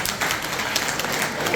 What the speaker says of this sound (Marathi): ज्यांना बोर झाला असेल एकदा जोरात टाळ्या वाजवा